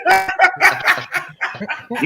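A dog barks and yips in a quick run of sharp, close, fairly loud bursts, with no pauses longer than a beat between them.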